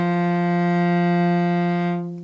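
A single sustained bowed cello note from a beginner phrase, steady and close, rich in harmonics, fading at the end.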